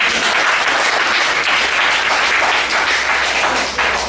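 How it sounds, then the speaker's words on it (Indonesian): Dense, sustained applause from a large crowd at a tech meetup, loud and steady throughout, with no talking over it. "Tepuk tangan dulu dong."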